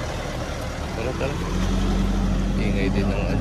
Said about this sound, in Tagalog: Ingay din ng ano, Nissan Terra eh.